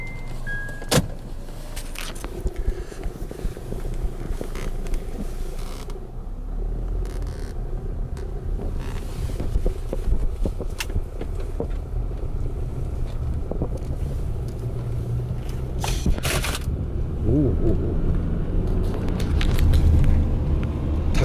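Steady, close rumble of a car cruising along National Route 254 near Shimonita, Japan, with continuous road and engine noise, some wind buffeting and a gradual swell in loudness toward the end; no one speaks.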